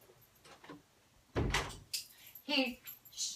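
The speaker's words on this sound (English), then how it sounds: "I'm going to shut my office door real quick" An office door is pushed shut with one solid thump in the middle, close and loud, followed by a speaking voice after it.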